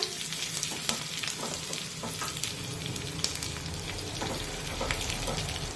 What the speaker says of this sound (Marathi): हिरव्या मिरच्या बारीक कट करून घेतलेल्या आहेत त्यासुद्धा यामध्ये टाकूया मिक्स करून घेऊया आणि काही सेकेंड हे सर्व साहित्य परतून घेऊया